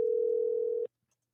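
A telephone dial tone hums steadily and clearly for under a second while a call is being placed, then cuts off abruptly into silence.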